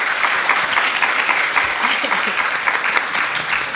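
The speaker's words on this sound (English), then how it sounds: "let's keep that applause going for our amazing panelists." Panelists at a conference panel discussion receive sustained applause from the audience, a dense, even wash of clapping at steady loudness throughout, with faint crowd murmur beneath.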